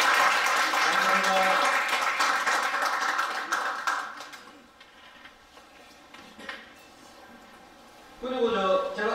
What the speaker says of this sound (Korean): 사무국장님께 또 박수 한번